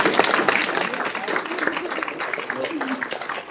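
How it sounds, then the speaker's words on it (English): A council-meeting audience claps for local youth, a brisk burst of applause close by and fairly loud, with voices talking over the clapping. "Let's give them another round of applause."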